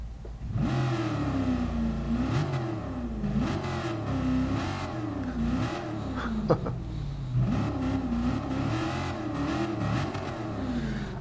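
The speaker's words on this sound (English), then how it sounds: "So we're going to give the engine a rev." A 1966 Shelby Cobra 427 engine in Gran Turismo Sport revs repeatedly up to 7,000 RPM, pitch rising and falling in steady surges, loud and close with a brief sharp pop midway.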